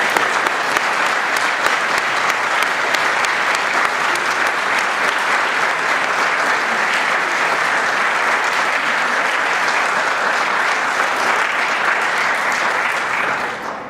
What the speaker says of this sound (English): let's wrap up with another round of applause for Team Staff